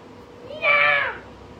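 A domestic cat gives one clear, drawn-out meow, close and fairly loud, rising and then falling, with no other sounds around it.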